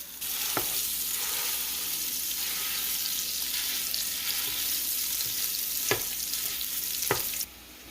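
Meat mixture sizzling in a hot pan, a dense continuous hiss of frying with a few sharp utensil clicks as it is stirred, ending abruptly.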